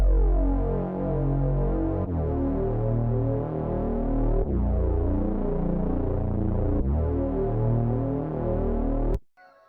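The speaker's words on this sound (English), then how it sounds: "We got this bass home preset, and this, it's not much to explain, just the bass notes from the chords." An Analog Lab bass preset plays chord root notes, deep sustained tones changing pitch roughly every two seconds, loud and clean with no talk, cutting off abruptly near the end.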